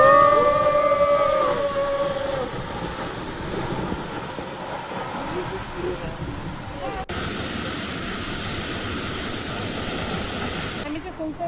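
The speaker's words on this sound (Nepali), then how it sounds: "नेपालकै उत्कृष्ट झरनाको रूपमा रहेको फुङफुङे झरना" Phungphunge waterfall in Taplejung, Nepal, a constant broad roar of falling water, loud and close throughout, with some wind buffeting on the microphone and a brief whistle-like tone early on.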